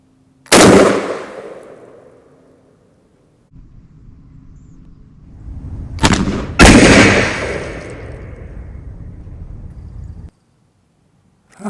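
A Mossberg 835 12-gauge shotgun fires at an outdoor range, with two loud, sharp blasts a few seconds apart, each trailing off in a rumbling echo.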